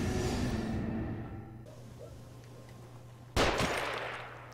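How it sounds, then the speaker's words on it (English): Gunfire in the horror game The Evil Within: a burst of shots at the start, then a sharp loud blast near the end that rings out, with no talking. "Find cover, they're shooting."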